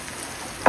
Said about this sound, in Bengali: খুব ভালো করে ভাজা হয়ে গেছে